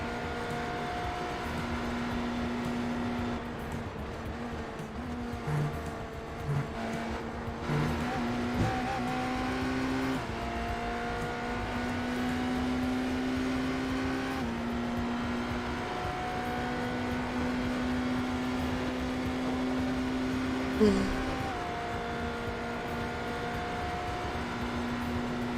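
A race car engine in the iRacing sim, at the Daytona 24 Hours, holds a steady drone with a rising and falling pitch as it revs through gears. It runs continuously at moderate loudness and fades into background hum.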